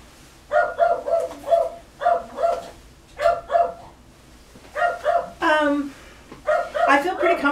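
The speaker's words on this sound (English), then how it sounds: "that's annoying with the dog barking" A dog barks repeatedly in short, clustered bursts nearby, loud and sharp, with a voice talking in between and over the barks.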